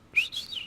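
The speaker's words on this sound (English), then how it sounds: "Why are you whistling with your just for fun?" A person whistles a short, bright rising note followed by a wavering, sustained tone, close and clear in a quiet room.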